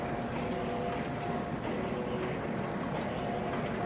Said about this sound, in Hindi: कटर भी धीरे धीरे अभी रोटेट कर रहे हैं फीड में